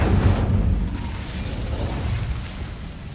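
A fiery Incendio spell bursts loudly in Hogwarts Legacy, one sharp blast at the start that rolls into a low, rumbling roar and slowly fades across the rest of the moment.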